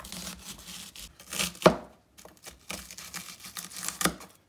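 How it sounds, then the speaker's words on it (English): A knife cuts onions on a cutting board at close range, with irregular chopping strokes and short pauses. Two sharper cuts stand out, and no one speaks. "Let me just cut up the onions."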